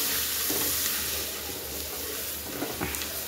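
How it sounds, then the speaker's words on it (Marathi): Sambar masala, Kashmiri red chilli powder, turmeric and coriander powder fry in a pan for rasam rice, giving a steady, close sizzle with a faint crackle throughout and no talking. "तर बघा मस्त छान असा मसाला फ्राय झालाय आता"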